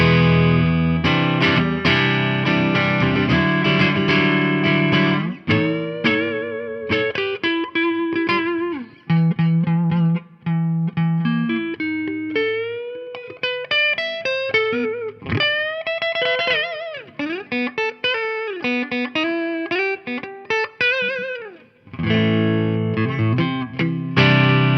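Electric guitar, a Gibson Les Paul 60's Tribute, played through the neck pickup, a warm, rounded tone with sustained chords and melodic runs, lightly distorted with effects, no talking.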